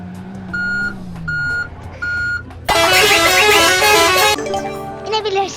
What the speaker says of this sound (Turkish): Şimdi en sona gelince kornamı bir çalacağım.